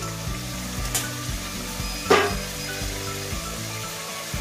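Sarputi fish sizzles and spits as it fries in hot oil in a pan, a steady crackling bed with one sharper hiss burst midway, close and continuous with no talking.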